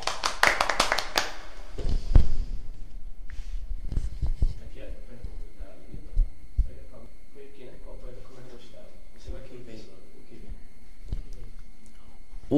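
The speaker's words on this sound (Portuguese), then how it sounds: "Palmas para Fernando Pessoa." Students at a school clap briefly for Fernando Pessoa in a short burst of applause, followed by quieter voices talking in the room.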